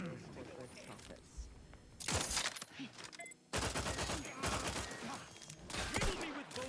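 Bursts of gunfire in The Outer Worlds crack out in several loud volleys separated by short quieter gaps, with speech heard faintly between them.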